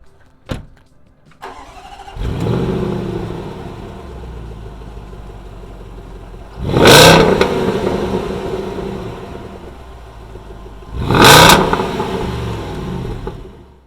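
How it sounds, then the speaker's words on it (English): A 2016 Range Rover Sport fires up and idles through its dual exhausts, then is revved hard twice in two loud, separate bursts, close by with no talking. "Not only do the dual exhausts look amazing, they also sound great. Take a listen."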